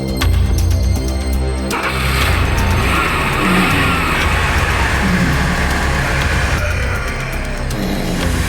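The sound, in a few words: car starting and driving away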